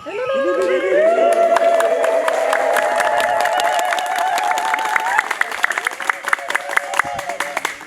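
A church congregation gathered for a Sunday-after-Easter service claps hands in a dense burst that thins into scattered, distinct sharp claps, while a sustained sung voice carries through the first half.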